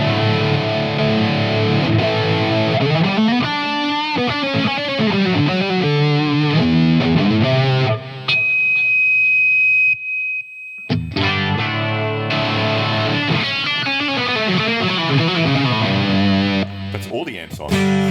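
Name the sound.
electric guitar through Fender Tone Master Pro amp models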